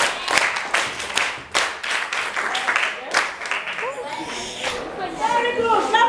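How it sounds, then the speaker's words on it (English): Children in a classroom clap for a classmate, uneven bursts of hand claps over the first few seconds, then voices talking as the clapping fades out. "Clap for him."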